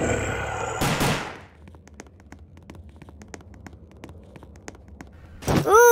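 Gunshots at zombies in the Roblox game Rise of the Dead: a loud burst at the start, then a run of quick, quieter rhythmic shots or footfalls, ending with another loud blast.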